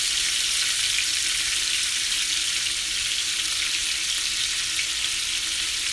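Steak pieces, garlic and vegetables sauté in a pan, giving a steady, loud, broadband sizzle that stays even and close throughout, with no talking.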